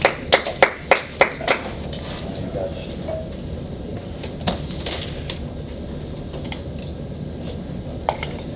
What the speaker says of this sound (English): so give them double clap.